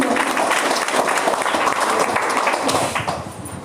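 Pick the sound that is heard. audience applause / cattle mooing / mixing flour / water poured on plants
audience applause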